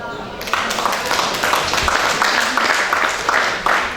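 Dense, steady applause fills the room at a fashion show event in Legnago and carries on without a break after a short quiet start.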